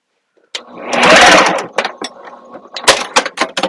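A sewing machine runs in a steady burst as it bastes fabric ends together for a wristlet, followed by short clicks and handling noises of the fabric and machine.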